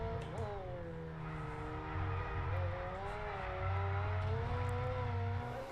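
F1 22 race car drifting through a corner, its engine holding a steady wavering high note while tyre scrub and a low skidding rumble run underneath, loud and continuous.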